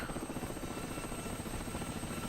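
A Mi-8 helicopter in a combat video game, taking missile hits and ground fire, thrums with a steady fast rotor chop and a high whine, loud and continuous throughout.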